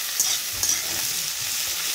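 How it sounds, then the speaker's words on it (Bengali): Eggplant curry frying with onion, nigella seeds and green chilli gives a steady, close hiss of hot oil, with a couple of faint clinks from stirring. "পেঁয়াজ, কালো জিরে, কাঁচা লঙ্কা দিয়ে বেগুনের একটা ভাজা ভাজা তরকারি"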